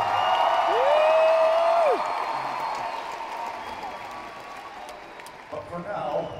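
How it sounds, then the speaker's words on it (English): A rock concert crowd applauds steadily through the hall, with one long, rising then falling whistle or cheer carrying above the broad wash of clapping, which slowly fades. "Give yourself a round of applause."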